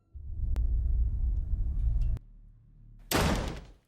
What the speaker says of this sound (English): Suddenly, the door to that room slams shut violently